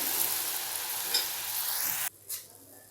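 Kara boondi batter dropped into hot oil fries with a loud, dense, continuous sizzle that suddenly cuts off, followed by a short scraping stir; no one speaks.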